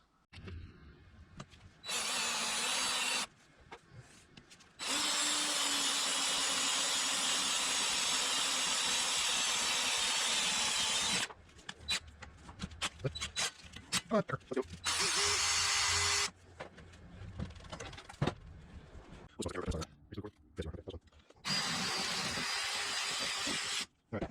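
A power drill bores fan mounting holes for a Fox Body cooling fan, running in several sustained bursts of whirring and grinding, loud and close, separated by quiet pauses and handling clatter.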